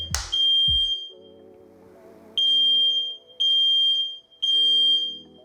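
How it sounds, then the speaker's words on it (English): An indoor smoke and fire alarm going off for no reason, sounding loud, shrill electronic beeps in repeated one-second bursts with short gaps between them, after a brief thump at the start. "The fire alarm went off for no reason whatsoever"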